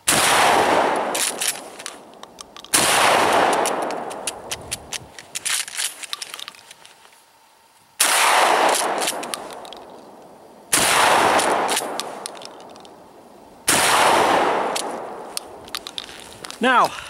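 A Mossberg 500 pump-action shotgun fires buckshot in rapid succession, five loud booming blasts spaced a few seconds apart, each with a long echoing tail and faint clatter of the pump action between shots.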